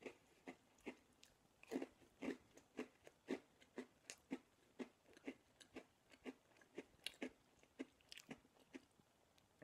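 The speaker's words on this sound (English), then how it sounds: "And here it goes into my mouth." Crunchy, close-up chewing of a Mega Stuf Oreo cookie: a regular series of sharp bites and crunches, about two per second, loud against a quiet background with no talking.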